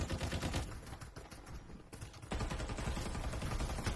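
An UZI submachine gun firing in a video game, rapid rattling bursts rolling on continuously, fairly quiet and somewhat distant, with a brief thinning of the shots midway.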